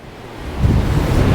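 Strong wind buffets the microphone on the Scottish coast near Wick, a low roar that surges after a quieter start and stays heavy and continuous, with no voices heard.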